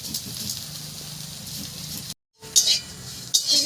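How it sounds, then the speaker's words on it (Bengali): Prawns frying in hot oil with salt and turmeric powder, giving a steady sizzle with clinks and stirring scrapes of a utensil in the pan, a brief drop to silence midway and sharper metallic scrapes after. "এবার মাছগুলোকে ভেজে নেব"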